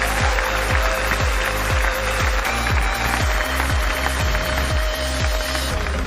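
Loud, sustained applause from a large crowd at a mega company event, a dense continuous clatter of clapping filling the hall for several seconds with a rhythmic low thumping beat beneath it.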